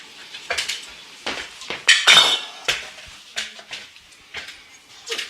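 Metallic clinks and small scraping taps sound as a cover is worked off an air diffuser nozzle, several sharp irregular knocks close by with quiet gaps between them.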